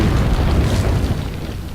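A grenade blast in Resident Evil 4, a loud, sustained low boom with broad rumble that fills the clip and slowly tapers off.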